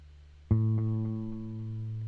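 Bass guitar with an echo effect sounds a single plucked note that rings and sustains, with faint repeating echo pulses trailing after the attack.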